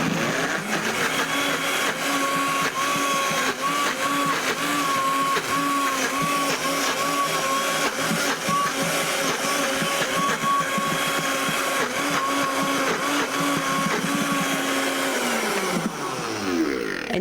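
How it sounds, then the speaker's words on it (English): A high-powered blender with a very strong motor runs steadily and loudly for the whole stretch, its dense whine holding constant before spinning down at the end, with no voices. "you really do need to use one of the blenders that has a super powerful motor"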